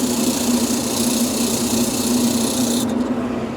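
A power sander running with sandpaper during a car exhaust upgrade, giving a loud, steady, close motor drone with a constant buzzing hum that cuts out near the end, no voices.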